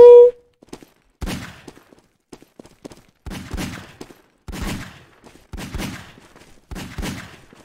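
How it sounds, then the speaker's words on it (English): Grenades exploding in Garry's Mod, a series of about five heavy blasts spaced a second or so apart, each with a sharp crack and rumbling tail, preceded by a brief tone. "Why the fuck am I throwing grenades at you?"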